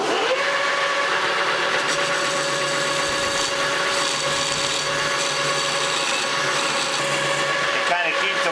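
A metal lathe parting off a workpiece gives a continuous, loud grinding and scraping whine that stays steady throughout and ends with a brief change near the end.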